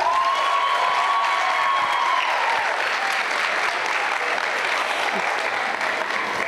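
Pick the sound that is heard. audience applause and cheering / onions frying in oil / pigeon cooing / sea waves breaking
audience applause and cheering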